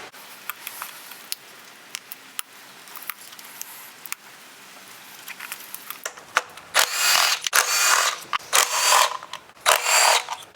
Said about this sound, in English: then we can go ahead and remove the 8mm to get all 4 of the coil packs out